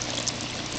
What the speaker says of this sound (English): it drips down into the lava rock and down into the tank